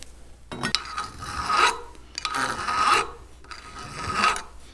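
Hand file rasping the peened-over end of a steel pin on a Farmall distributor gear, three long rhythmic strokes with short pauses between, close and loud, no talk.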